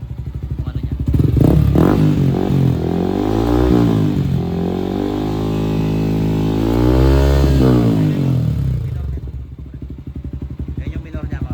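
Yamaha Sniper 155 motorcycle with a new exhaust revs up twice from a deep idle, rising and falling in pitch, loud and near, with light rattle and thumps between pulls.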